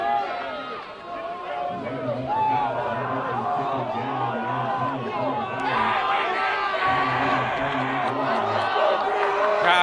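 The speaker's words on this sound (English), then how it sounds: "Crowd getting into it." Crowd at a high school football game, Klamath Union at Phoenix, roars and chatters steadily throughout, a dense wash of cheering voices and stadium hubbub.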